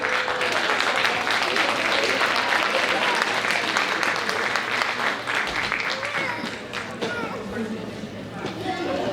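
A school audience at an oratorical contest applauds children who spoke, with continuous full-room clapping and some voices mixed in that thin out slightly toward the end.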